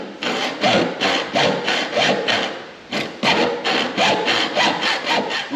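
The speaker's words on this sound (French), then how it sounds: "C'est pour ça que j'avais acheté la scie à onglet." Rhythmic back-and-forth sawing through wood with a mitre saw, strokes coming in steady repeated bursts with a brief pause near the middle, close and fairly loud with no talking.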